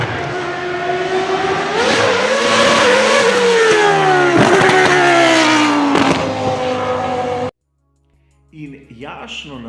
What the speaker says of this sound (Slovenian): do tistega znamenitega Williamsa F2V14B, seveda z motorjem V10 Renault.